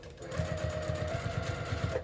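A sewing machine stitching a seam on a hobo bag, a quick rhythmic run of needle thumps close up, steady and continuous for about two seconds.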